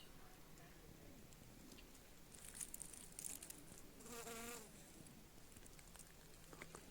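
Faint buzzing of bees gathering pollen from flowers drifts in and out against a hushed outdoor background, one bee briefly louder and nearer before fading.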